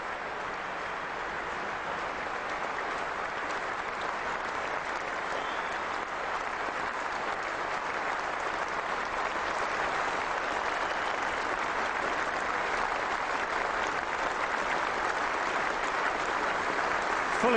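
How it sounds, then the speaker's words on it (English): A standing ovation from the MCC members and crowd at Lord's during an England versus South Africa cricket Test, sustained dense applause that holds evenly and loud for the whole stretch. "Fully deserving the standing ovation from the MCC members and all here at Lord's today."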